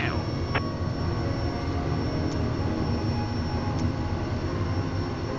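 A Kodiak 100 single-engine turboprop at a remote airstrip builds steady, loud engine roar for takeoff, a continuous broadband drone throughout with no talk.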